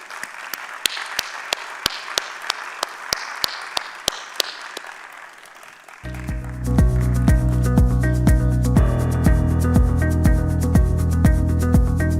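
Audience applause for Gregory Chaitin at an institute opening at UM6P, with scattered claps at first, then loud, dense music with a steady beat taking over.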